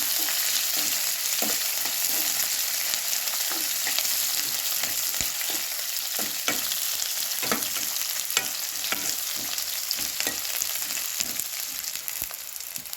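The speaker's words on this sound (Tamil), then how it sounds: "போட்டு நல்லா கோல்டன் கலர் வர்ற வரைக்கும் ஃப்ரை பண்ணிக்கிறேன்." Onion and green chilli fry in oil for a pepper chicken gravy, giving a dense, continuous sizzle close by, with frequent spatula clacks and scrapes at an irregular rhythm; no voices.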